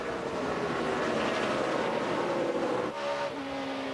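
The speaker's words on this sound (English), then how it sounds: "And here goes Kyle to the inside of Kasey Kahne, Ralph." NASCAR Sprint Cup stock cars racing at Pocono, a dense, loud engine roar with rising pitch as cars pass close by, continuous throughout.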